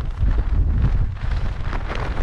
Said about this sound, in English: But it's so windy. So windy.